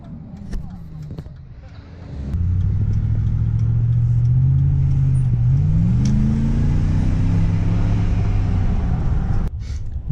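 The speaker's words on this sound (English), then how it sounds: "Still revving it." A Mazda FD RX-7 rotary engine revs hard as the car pulls away from a car meet, a loud, close, sustained throaty drone that climbs and falls in pitch, with a quieter idle beforehand.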